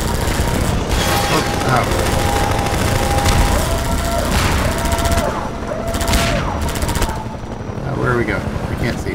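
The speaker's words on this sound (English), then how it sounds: "Get the machine gun." Sustained automatic weapon fire from Half-Life 2 gameplay, with rapid bursts and a helicopter-like drone running throughout, loud and continuous while a player briefly reacts with short exclamations.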